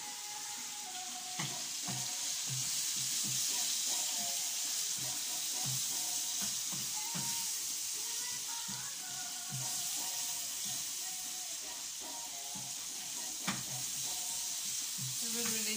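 Salted fish and shrimp sauté in a pan with spices, giving a steady close sizzle and bubbling throughout, with scattered light clinks and stirring scrapes over the frying.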